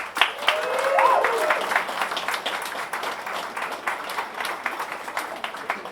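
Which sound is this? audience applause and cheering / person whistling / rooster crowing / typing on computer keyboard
audience applause and cheering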